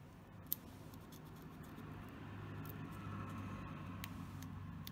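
Scissors snip through clear contact paper in a few quiet, sparse cuts over a low steady background hum, with no talking.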